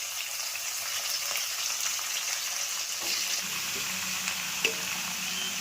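Bottle gourd greens fry in hot oil with a steady, crackling sizzle. The pitch shifts slightly partway through as the greens settle in the pan, and there is a small clink near the end.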